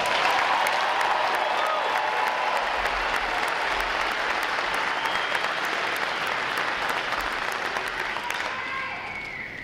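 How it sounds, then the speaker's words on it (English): Sustained applause from a large crowd at a U.S. Navy Recruit Training Command graduation ceremony for the graduating divisions, steady and dense throughout before easing slightly near the end. "Let's give them a round of applause as well."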